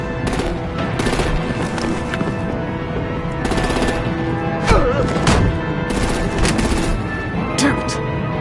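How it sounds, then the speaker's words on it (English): Rapid machine-gun bursts and gunfire fill a video-game battle played on PS4, with several long volleys, a heavier boom among them and constant combat noise underneath. "Break out the artillery and disable their vehicles!"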